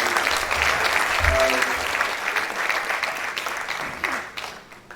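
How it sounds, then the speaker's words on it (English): An audience claps at a university valedictory lecture, dense applause that is loudest early and tapers off toward the end, with brief voices murmuring over it. "please another round of applause for Adebayo."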